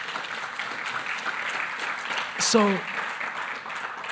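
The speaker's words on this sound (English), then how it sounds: "Another round of applause." An audience at a social justice lecture claps in a steady, moderately loud round of applause, with a brief spoken word cutting through near the middle.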